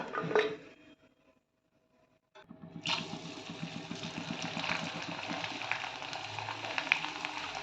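Tomato murukku vathal frying in hot oil, a quiet start and brief pause, then a steady loud bubbling sizzle that carries on alone.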